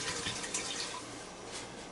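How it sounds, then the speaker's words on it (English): Water is poured into a hot pan of browned meat for dirty macaroni, giving a close, steady rushing hiss of sizzle and splashing for two seconds. "It will sizzle when you put the water in."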